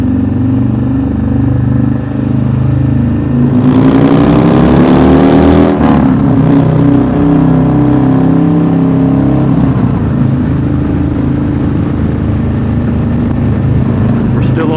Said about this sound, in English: the drone of the engine in the background